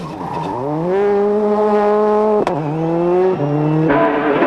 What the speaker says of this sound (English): Kris Meeke, guided by Glenn Patterson, makes his World Rally Car debut.